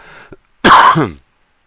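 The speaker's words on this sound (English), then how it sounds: "Sorry, I'm coughing so much." A short, harsh cough bursts out once after a faint throaty noise, close and loud, then stops abruptly into silence.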